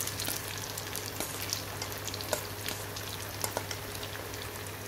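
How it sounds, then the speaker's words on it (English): Batter-coated cauliflower florets fry in oil over medium heat, a steady dense sizzle with scattered small pops and crackles throughout, close and moderately loud, no voices. "We will fry these florets on medium heat so that the florets get cooked properly"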